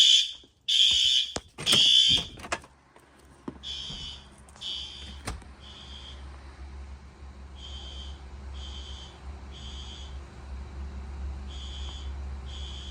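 Fire alarm horn strobe sounding during an alarm test: loud, close electronic horn blasts in quick bursts that cut off, then continuing as a fainter, regularly pulsing tone over a low background rumble.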